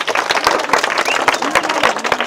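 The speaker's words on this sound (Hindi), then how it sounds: "एक बार जोरदार ताली।" An audience at a comedy magic show breaks into loud, dense clapping and cheering, close and continuous, with voices mixed in the crowd noise.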